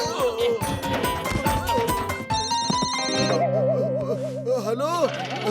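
A cartoon telephone rings with a steady electronic tone amid animated voices and music in a Motu Patlu episode.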